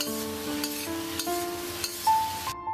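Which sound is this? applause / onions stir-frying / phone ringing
onions stir-frying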